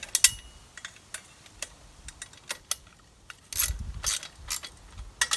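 A socket ratchet on extensions turns a radiator guard bolt on a Yamaha WR250R, giving irregular close clicking bursts of the pawl, with a louder, busier run of ratcheting toward the end.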